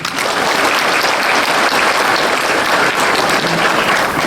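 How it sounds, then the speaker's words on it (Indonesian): Dense, steady applause from a large audience at a college graduation ceremony, loud and unbroken for a few seconds with no talking over it. "Tepuk tangan dong"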